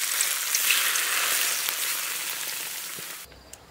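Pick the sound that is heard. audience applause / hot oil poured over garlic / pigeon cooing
hot oil poured over garlic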